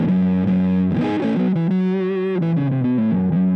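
An electric guitar plays through an Earthquaker Devices Hoof Reaper fuzz pedal with the tone knob set low, giving a thick, dark, saturated fuzz. A short riff moves between sustained notes, loud and upfront, with no talking.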